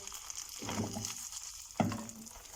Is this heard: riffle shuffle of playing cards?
no